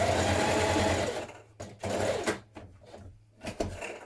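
A sewing machine runs a long straight stitch through dress fabric along a chalk-marked line, a loud steady whirring hum that breaks into shorter stop-start bursts with brief pauses between them.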